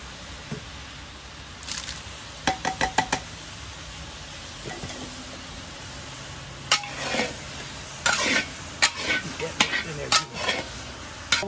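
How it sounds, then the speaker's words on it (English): Onions sauté in a large pot for pastalaya while six cans of Rotel tomatoes go in. Metal clanks and scrapes come in bursts over a low sizzle, with a cluster of quick taps early on and louder stirring near the end. "Now we're gonna hit it with 6 cans of Rotel."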